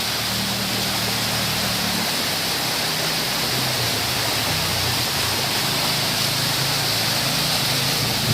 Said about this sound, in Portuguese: Aqui é a cachoeira.